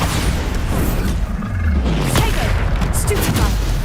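Explosive blasts from the Bombarda spell in Hogwarts Legacy boom out amid a dense, continuous barrage of combat noise, loud throughout, with spell impacts and crashes layered together.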